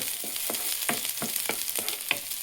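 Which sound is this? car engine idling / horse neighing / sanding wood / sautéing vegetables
sautéing vegetables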